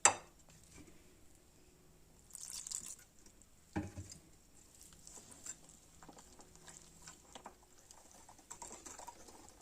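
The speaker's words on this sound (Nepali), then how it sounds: "अब मजाले मिक्स गर्नुपर्छ, पानी थोरै लाउँदै मजाले फिट्नुपर्छ।" A spoon beats aloo chop batter with a little water in a bowl, making faint, quick, irregular clicks and taps close by, with a few louder clatters against the bowl.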